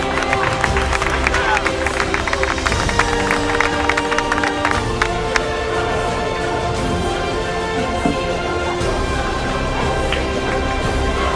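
Crowd clapping and cheering during a trophy presentation at the 30th Valencian Community championship in Benavites, a loud mix of applause, babble and voices with music or tones running underneath.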